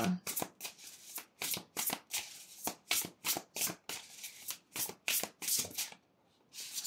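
Tarot cards are shuffled for a reading, with about a dozen crisp riffling bursts coming in a steady rhythm, close and clear, and a short pause near the end.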